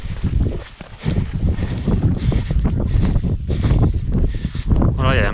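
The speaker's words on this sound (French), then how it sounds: "Il y a pas mal de vent." Strong desert wind blowing sand during the Marathon des Sables ultramarathon in the Sahara, a loud continuous roar buffeting the microphone, gusting throughout with no pause.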